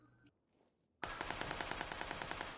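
After a quiet moment, loud sustained automatic gunfire erupts in a video game, a rapid, even stream of shots continuing to the end.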